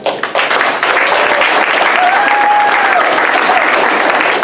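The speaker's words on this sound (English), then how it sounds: "let's bring our troupe back in. Give them a round of applause." An audience gives a sustained, dense round of applause for an improv comedy troupe, loud and even throughout, with a faint whistle rising briefly in the middle.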